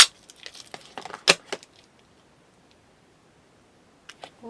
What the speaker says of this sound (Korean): 비닐을 벗겨주시고